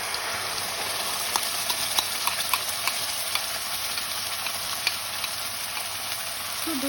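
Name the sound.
frying mustard paste in a pan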